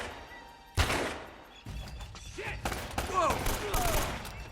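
Gunfire in the video game Uncharted: Drake's Fortune, bursts of rapid shots and sharp cracks spread across the clip, some sounding distant and others close, with loud crashing impacts toward the end.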